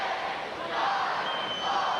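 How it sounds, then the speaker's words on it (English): A high school wrestling crowd at a 1993 state meet roars as a match clock runs out, a dense, loud wall of massed voices rising and chanting together. "You can hear the crowd counting it down in Class C"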